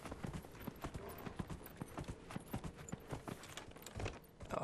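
Horse hooves clip-clop steadily on the ground in Dragon Age Inquisition, a brisk, even rhythm of close, distinct hoof strikes running throughout over faint background ambience.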